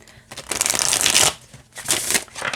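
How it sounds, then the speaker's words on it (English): Close, crisp riffling of a Rider Waite Smith tarot deck with snappy, flexible cardstock: two quick shuffling bursts separated by a brief pause, with no talking. "It shuffles wonderfully"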